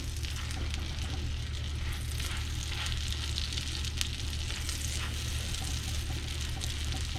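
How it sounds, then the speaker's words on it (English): Wild bolete mushrooms fry in butter in a pan with a continuous close crackling sizzle, steady and moderately quiet, no voices. "I got my butter going, put in my mushrooms."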